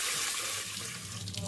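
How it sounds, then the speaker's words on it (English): Short grain rice is washed under running tap water, a close, steady splashing rush into a sink. "You want to wash the rice 3 or 4"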